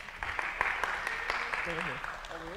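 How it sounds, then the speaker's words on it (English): Audience applause for a volunteer named Luis called up on stage at a church talk: steady, dense clapping throughout, with a voice speaking over the end. "Round of applause."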